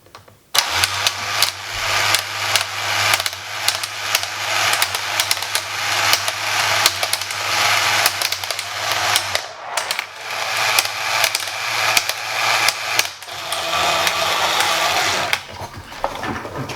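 A belt-driven electric motor in a vintage English-made Merit derby horse racing tabletop game whirs with a steady buzzing hum and rapid mechanical clatter, cutting out briefly midway, then restarting and running on close by.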